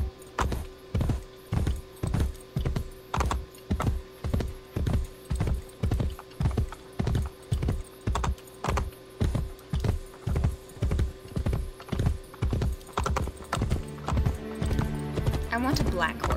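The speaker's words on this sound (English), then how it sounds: "Alright, horsey? Let's ride." Horse hooves clip-clop at a steady rhythmic trot during a ride in the video game Assassin's Creed Brotherhood, continuous and fairly even throughout, with game sounds and a voice talking over it.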